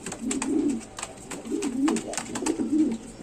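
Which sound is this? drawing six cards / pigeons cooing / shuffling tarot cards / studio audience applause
pigeons cooing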